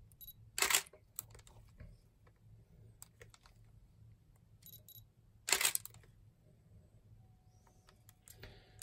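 A camera gives a focus confirmation and then fires its shutter: two loud, close mechanical clacks about five seconds apart, with faint button clicks in between and a quiet room around them.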